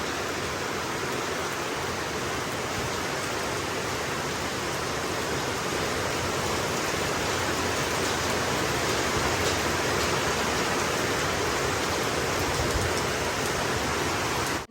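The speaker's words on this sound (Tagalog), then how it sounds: "Pabugso-bugso yung ulan." Gusty rain and strong wind at night in a rural province as a typhoon approaches, a constant broadband roar of downpour and wind that stays steady and heavy for the whole stretch, with no voices.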